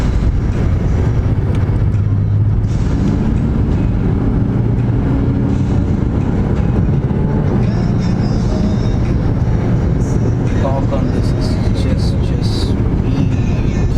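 A Maserati Quattroporte drives in sport mode, giving a loud, constant engine and road roar heard from inside the car, with a voice talking faintly over it.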